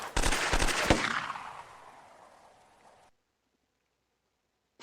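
Rapid bursts of gunfire from units firing in the Lock N' Load Tactical video game, a loud rattling volley for about a second that trails off into a fading decay before abrupt silence.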